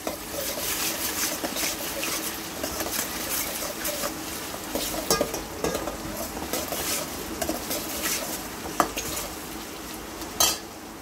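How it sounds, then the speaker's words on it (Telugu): Onions fry in a pan for a tomato and drumstick curry, giving a continuous dense sizzle with scattered clinks of a spoon against the pan. "ఆనియన్స్ వేగుతున్నాయి"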